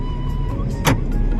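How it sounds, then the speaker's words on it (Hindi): Interior hum of a car being driven on the road in Odisha, a steady low drone with a brief whooshing burst midway, no one talking. "गाड़ी ड्राइविंग करछंती"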